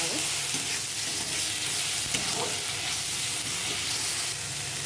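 Turmeric and chilli powder fry in a pan for a fish curry, a dense, loud, continuous sizzle close at hand, with faint scraping from stirring and no speech.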